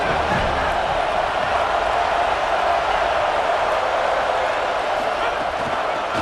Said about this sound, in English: Got them pinned deep in their own end, and this crowd trying to help keep them there.